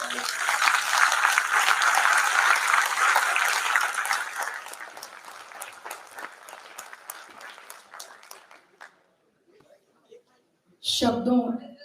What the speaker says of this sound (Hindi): एक बार दोनों हाथ हवा में लहराकर तालियां बजाकर उनका स्वागत करें